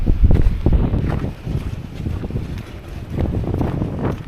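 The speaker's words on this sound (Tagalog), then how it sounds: "lakas ng hangin" Strong gusting wind roars across the microphone in uneven surges, with low rumbling buffeting throughout and no voices.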